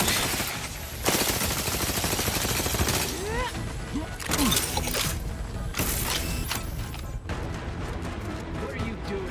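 Rapid automatic gunfire in the video game The Outer Worlds 2, loud sustained bursts with mechanical clatter and brief pauses.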